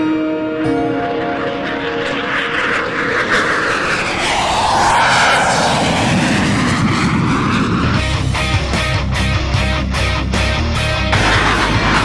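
A Su-30MKI fighter roars through an aerobatic display, with a loud, sustained engine sound that sweeps in pitch as the jet passes and then gives way to a rough, rumbling tail.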